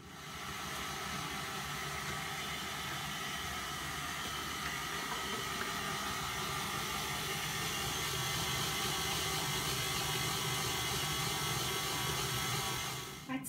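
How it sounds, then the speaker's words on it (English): A mixer blends flour into a butter and sugar mixture for chocolate chip biscuits, giving a steady, fairly quiet motor whir with a faint rattle that runs evenly throughout and stops abruptly at the end; no voices. "I'm now going to begin adding my flour slowly into the butter and sugar mixture, and blend it up really nicely"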